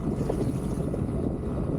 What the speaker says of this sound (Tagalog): Talagang Grabe yung pagbayog ng hangin dito.